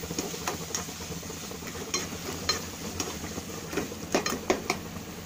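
Spices such as chilli powder and turmeric are stirred in a pan for butter paneer masala, giving soft scraping and light clinks of a spoon against metal over a faint sizzle, with no talking.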